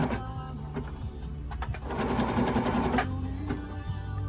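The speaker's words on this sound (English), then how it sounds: "Now I'm gonna put it back together and make some stitches." A Husqvarna Viking Jade 20 sewing machine, just repaired after a jam caused by a broken bobbin, runs in short bursts of stitching. A rapid mechanical whir peaks in one steady two-second run, with lighter clicks and ticks before and after.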